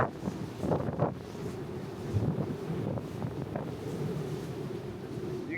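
Strong wind gusts roar steadily across the open deck of the Sapphire Princess cruise ship at sea with a hurricane nearby, a constant buffeting rush with low rumble and no talk.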